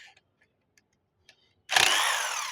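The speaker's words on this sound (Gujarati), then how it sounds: "તો ગનથી અમારે ઝડપી કામ થાય એટલે ગનથી ખોલી લેશું" On a Honda CD Deluxe motorcycle, a few faint clicks give way to a pneumatic impact gun loosening bolts, a sudden loud, close burst of rattling whir that carries on to the end.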